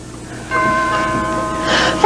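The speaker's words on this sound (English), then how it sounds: "I'm going to ring the doorbell." A doorbell rings with a sustained, bell-like chime that holds steady for over a second, fairly loud against faint room noise, with no talking.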